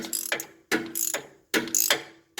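A puller being cranked to draw a CV bushing out of a first-generation Toyota Tundra, three loud close bursts of rapid ratchet clicking separated by short pauses.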